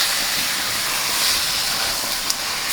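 Steam hisses loudly and continuously from a cooking pot, a dense airy rush with a brief sharper spurt near the end.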